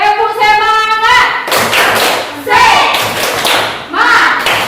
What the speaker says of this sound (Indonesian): Kita kasih tepuk semangat sekali lagi.